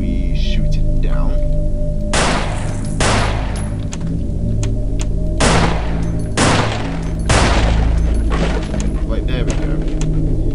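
Gunfire aimed at a box in the horror video game Afraid of Monsters: about four loud, broadband shot bursts land at irregular intervals over a steady droning in-game ambience.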